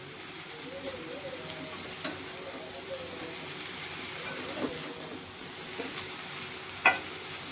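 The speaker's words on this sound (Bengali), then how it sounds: "লাউ শাক আর আলু তো দিয়ে আমি একটু মিক্সড করে নেব নেড়ে চেড়ে" Bottle gourd greens and potatoes are stirred in a hot pan, a faint, steady sizzle with light scrapes and taps, one sharper clink near the end.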